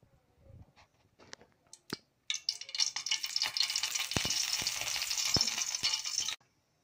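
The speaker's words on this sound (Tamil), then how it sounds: "இப்போ நம்ம எப்படி தாளிக்கிறது பார்க்கலாம்." Oil for tempering spices hisses and sizzles steadily in a pan for a Tamil paruppu urundai kuzhambu, rising after a few faint knocks and clicks into a loud continuous frying crackle that cuts off abruptly.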